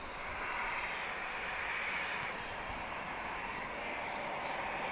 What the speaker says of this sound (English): TP1015 arriving from Madrid. This is an A321neo.